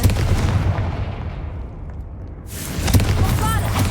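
A Confringo spell in Hogwarts Legacy lands with a sharp gunshot-like blast followed by a fading rumble, then another burst of impact noise near the end.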